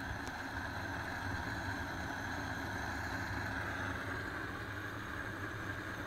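A propane burner firing a raku pottery kiln gives a steady, dense roar, even and unbroken throughout, close and moderately loud, with no voices.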